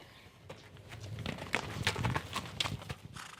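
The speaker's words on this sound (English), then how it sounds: "Do you like riding horses, Arihia?" Horse hooves clip-clopping on a New Zealand rural property, a quick irregular run of sharp, fairly close knocks lasting a few seconds over faint background noise.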